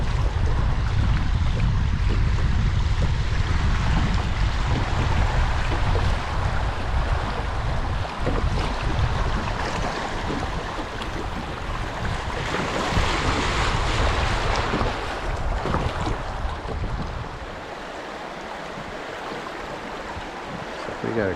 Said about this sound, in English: Wind's still whipping.